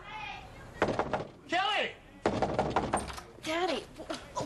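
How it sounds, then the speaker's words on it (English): In a TV drama scene, a door is pounded with heavy repeated thumps and then opened, while raised voices shout over the banging. "Kelly, open the door!"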